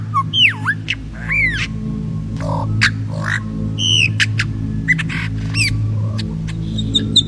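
A lyrebird's mimicry, a rapid run of varied calls: swooping whistles, sharp clicks and squawks, and mechanical-sounding chirps, close and loud over a steady low hum.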